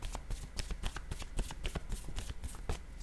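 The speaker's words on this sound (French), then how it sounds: "je voulais piger une carte mot sur la tasse de café" Cards are handled close by while a word card is drawn from a deck: a brisk, continuous run of papery flicks and riffles, fairly loud and steady throughout.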